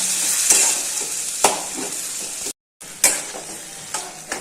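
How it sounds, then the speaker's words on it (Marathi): Mutton pieces stirred into hot frying masala in a pan for mutton fry, with loud sizzling and a few sharp spoon scrapes and knocks, broken by a brief silent gap, no talking. "ह्याच्यामध्ये जे आपण पीस काढलं होतं ना ते ऍड करणार आहोत आणि पूर्ण ह्याला लावून घेणार आहोत मसाला पूर्णपणे"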